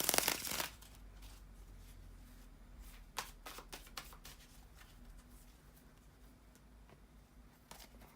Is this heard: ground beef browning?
no